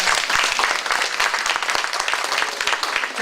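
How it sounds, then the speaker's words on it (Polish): Warm audience applause at the Niepokalanów awards ceremony, a loud, dense, sustained clapping from a large crowd that continues evenly throughout, with no speech over it. "Brawa, brawa proszę Państwa."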